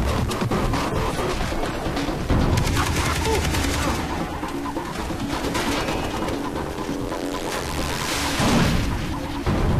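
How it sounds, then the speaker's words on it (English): Enemy gunfire rips through a building during a Far Cry 3 firefight: dense, continuous bursts of rapid shots crackle loudly for the whole stretch over a busy game soundscape. "Oh, they're shooting through the building."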